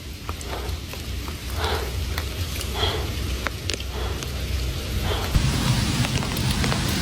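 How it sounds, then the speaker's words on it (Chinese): Large hailstones fall hard on the ground and surfaces in a heavy storm, a dense steady clatter with sharp individual impacts, heard outdoors by a reservoir with no talking. "这个下的冰雹啊！"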